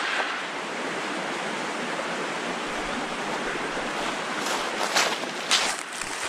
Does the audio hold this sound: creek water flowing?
yes